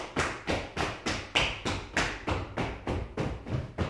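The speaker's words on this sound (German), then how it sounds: "Jetzt hinten klopfen." Steady rhythmic tapping on the back during Nei Yang Gong self-massage, about three dull, close thumps per second repeating evenly throughout with no talk.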